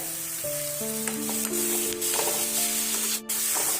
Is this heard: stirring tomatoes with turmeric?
yes